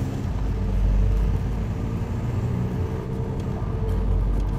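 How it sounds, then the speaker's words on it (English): A car speeds up to 50 km/h on a drive-by run, its steady low engine and road rumble swelling slightly and holding close and continuous, with no voices. "Damien will take the car up to 50 kilometers per hour"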